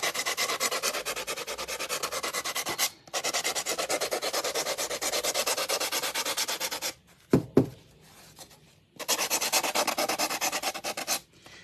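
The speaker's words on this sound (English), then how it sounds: "I'm going to sand around the whole edge." A wooden craft piece is sanded by hand around its edge with long, steady rasping strokes, close and loud, broken by brief pauses and a knock or two before the rubbing resumes.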